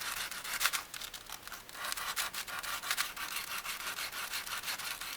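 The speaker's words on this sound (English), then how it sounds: "I'm just going to trim a little of the graham cracker off the top." A knife saws back and forth across a graham cracker, trimming off the top edge. It makes a steady, fairly quiet scraping rasp in repeated short strokes, close by, with no voices.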